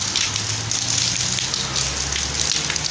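Heavy rain pours steadily in Dubai under a fully overcast winter morning sky, a dense, continuous hiss of drops hitting surfaces, loud and close, with a low rumble beneath and no voices.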